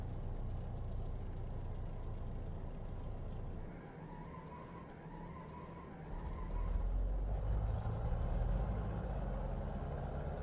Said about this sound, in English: Hopefully I can start the engines again.